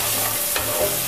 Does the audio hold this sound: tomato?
yes